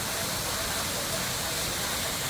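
Steady broadband rushing roar of water falling at the base of a waterfall at a hidden temple near Bangkok, constant and close with no voices.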